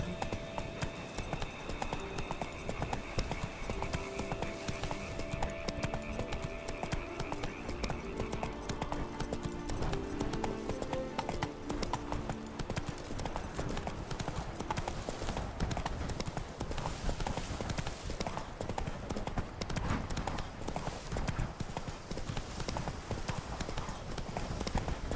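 Steady rhythmic hoofbeats of a horse galloping in the video game The Witcher 3, continuous and close under layered game music and ambience for the whole stretch.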